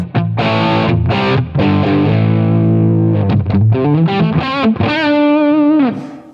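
Electric guitar played through a Line 6 Helix modeler and picked up on a Coles 4038 ribbon mic, distorted with a woofy, boomy bottom end; strummed chords and single notes ring out loud and close, ending on a sustained held note.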